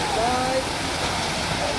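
Artificial tree fountain at NTR Garden on Necklace Road spraying water, a dense continuous hiss and splash close by, with a faint whistle-like tone at the start.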